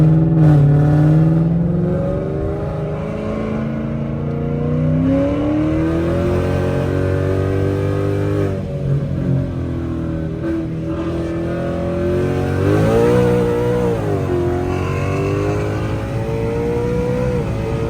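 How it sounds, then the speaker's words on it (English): A 700hp Ford Mustang accelerates hard in second gear from a roll, its engine note climbing in loud, steady harmonic sweeps with brief dips at shifts or tire slip, close to the listener and with no talk over it. "I'm gonna try a little second gear 40 roll. See how she hooks."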